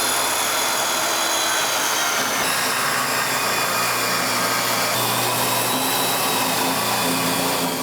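A power miter saw cuts 45-degree miters in hardwood flooring for a mudroom bench seat, its motor whining loudly and steadily with the pitch shifting as each cut is made, and no voices.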